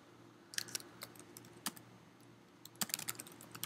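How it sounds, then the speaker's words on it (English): Computer keyboard typing in a quiet office setting, with short bursts of light key clicks separated by pauses, close and fairly soft, no talking. "I just type it in here."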